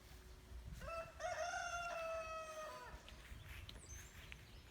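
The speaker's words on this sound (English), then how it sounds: "That's Mr. Little Bit that you're hearing crowing." A pet rooster named Mr. Little Bit crows once in a backyard garden, a clear mid-distance cock-a-doodle-doo of about two seconds rising and falling against outdoor ambience.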